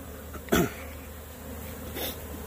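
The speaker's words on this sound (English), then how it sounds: "There's a few bees left behind right here." A continuous low buzzing hum of a honeybee swarm close by at a hive box, with a brief thump and a soft cough-like sound breaking through.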